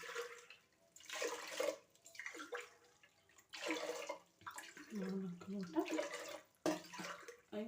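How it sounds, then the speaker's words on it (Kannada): Water poured from a vessel into a pressure cooker holding rice and split moong dal for khara pongal, splashing in several bursts with pauses, close by while someone talks between pours. "ಹಾಗೆ ಅದಕ್ಕೆ ಬೇಕಾಗಿರುವಷ್ಟು ನೀರನ್ನು ಸಹ ನಾನಿಲ್ಲಿ ಆ್ಯಡ್ ಮಾಡ್ತಾಯಿದ್ದೀನಿ"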